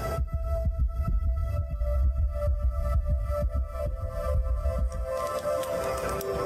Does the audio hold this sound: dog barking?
no